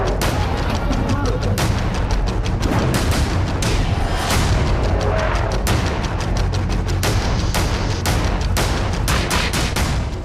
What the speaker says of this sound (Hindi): इस बीच देखिए क्वेटा में बम धमाका हुआ